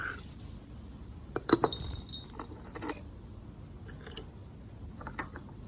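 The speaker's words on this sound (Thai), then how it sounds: "เป็นน็อตเบอร์แปดนะครับก็ขันออกให้เรียบร้อย แล้วก็ดึง ออกมานะครับ" Battery hold-down bolt, 8 mm, being unscrewed on a Honda CBR motorcycle during a battery swap: a few faint, close metallic clinks and rattles of the wrench over a quiet background.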